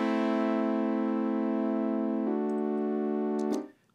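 A sustained buzzy sawtooth synth note gradually loses brightness as a low-pass filter removes its upper tones, turning duller before stopping.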